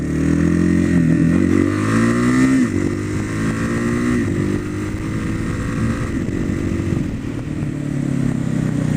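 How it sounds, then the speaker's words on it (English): A large dual-sport motorcycle engine drones steadily as it is ridden, loud and close, with the pitch rising and dipping as the throttle changes and wind noise underneath. "if you've never ridden a dual sport, especially a bigger dual sport,"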